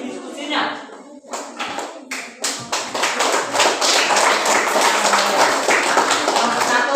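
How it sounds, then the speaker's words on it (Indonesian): Children in a classroom give lively applause for a group presentation, beginning with scattered claps and taps under talking and building into steady, dense clapping. "mari kita berikan tepuk tangan yang meriah kepada kelompok 1 yang telah mempresentasikan hasil diskusinya"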